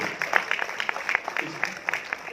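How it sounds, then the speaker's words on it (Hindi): An audience at a live Hindi poetry and shayari show claps in scattered, uneven bursts, a moderate patter of hands close by with no one speaking over it. "तो सरकार, सबसे पहले मिर्जा भाई के लिए तालियां हो जाएं"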